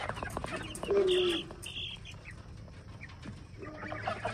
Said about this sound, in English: we've got even littler baby chicks in here